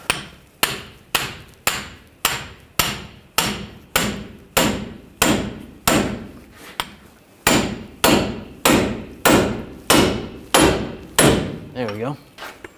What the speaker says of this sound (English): We're going to separate the ball joint from the knuckle. We're going to use a pickle fork.